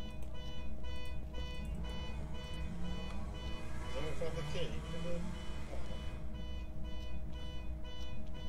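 An alarm going off in the ghost-hunting video game Phasmophobia, heard near a garage: a continuous electronic tone runs through the whole stretch with a steady level under faint game background noise.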